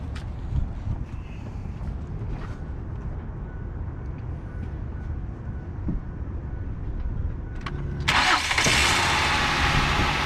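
Low mechanical rumbling and clatter, then a car engine cranks and catches, settling into a loud, steady idle close by.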